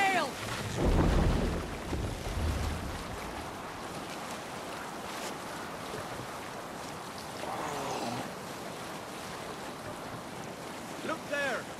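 A Viking longship sails through rough sea in Assassin's Creed Valhalla, with steady wind and rushing waves. A louder surge of water comes early, then a continuous wash with occasional swells, and no one speaks.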